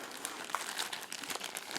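A large plastic bag from an Adventure Medical first aid kit being handled, close crisp crinkling in quick irregular bursts, with no talking.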